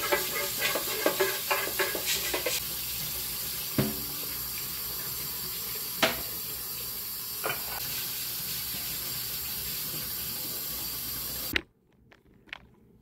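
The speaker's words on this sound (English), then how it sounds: "We'll just run some water in it, hot water, swoosh it around, some soap." Hot water runs steadily from a tap into a container in a kitchen sink as it is swooshed around with a little soap, a continuous close hiss with a few knocks and clinks before it cuts off.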